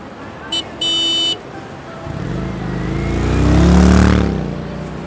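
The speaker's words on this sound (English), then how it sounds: "Motorcycles." Motorcycles start with two short horn beeps, then an engine revs up loudly close by, its pitch climbing to a peak and falling away as it passes.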